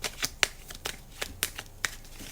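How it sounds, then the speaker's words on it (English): Tarot cards being shuffled up close, a series of crisp riffling flicks and snaps at an uneven pace. "Okay, so I'm just going to shuffle your cards."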